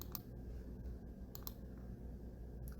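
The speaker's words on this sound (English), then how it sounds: "I'm going to click on select" A computer mouse clicks a few times while selecting an image in a web page builder, sharp faint clicks spaced irregularly over a low steady room hum.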